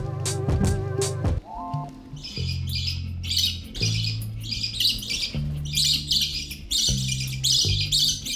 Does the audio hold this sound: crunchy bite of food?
no